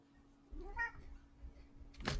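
A pet cat gives a single short, faint meow in a quiet room, followed by a soft rustle.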